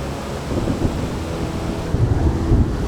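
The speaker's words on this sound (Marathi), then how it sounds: "हे बघा किती जोरदार हा पाऊस पडतोय आणि हा धबधबा वाहतोय" Steady, dense rushing water roar of heavy rain and a waterfall torrent in the Sahyadri hills, a heavy broadband wash with slight surges toward the end.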